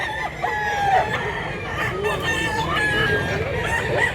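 Several roosters crow over and over at a busy chicken market in Mantalungon, Cebu, their drawn-out calls rising above a steady crowd murmur and clucking.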